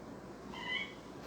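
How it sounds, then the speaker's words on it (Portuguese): A small female cat gives a single faint, brief meow in the middle, soft and somewhat distant over a steady hiss of room noise. "Escutaram, miadinho?"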